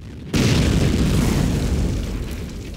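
A loud explosion in the Men of War tank battle game, a sudden heavy boom that hits at once and then rolls on as a long rumbling tail with debris noise, slowly fading.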